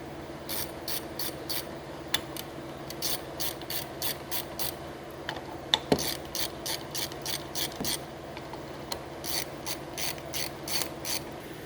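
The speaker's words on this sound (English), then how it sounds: "first thing you're going to want is a 1/2-inch wrench. Got 4 bolts right here." A ratchet wrench clicks in quick rapid bursts, close and crisp, while removing the bolts on the reel of a Jacobsen fairway mower on a bench, with short pauses and a few metallic knocks between runs.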